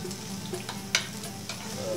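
Half an onion and about four cloves of garlic frying in a pan, a steady low sizzle with occasional stirring scrapes and a sharper clack near the middle, no talking.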